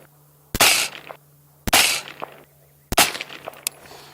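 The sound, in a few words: gunshots from VKTR VK-1 AR15, PMC bronze 223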